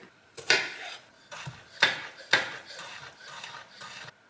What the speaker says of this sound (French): Je vais venir de la même façon que les carottes les couper en petits bâtonnets.